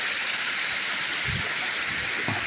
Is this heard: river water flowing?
yes